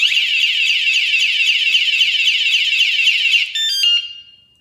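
A Wsdcam 113dB wireless bike alarm blares a loud, continuous, shrill electronic siren that cuts to a few short beeps near the end before falling silent.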